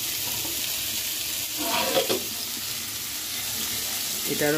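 A pan of frying with turmeric and salt, sizzling in a steady, close hiss that runs throughout, with brief stirring scrapes midway and a short voice near the end.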